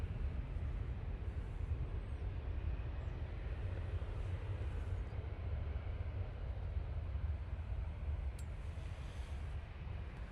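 A Ryanair airliner taxis at Manchester Airport, a steady low engine rumble with a broad roar held at a constant level throughout.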